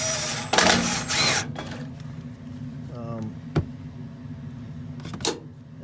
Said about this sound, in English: I'll run them all the way in with a nut driver, just so I don't crank down too hard and crack the board.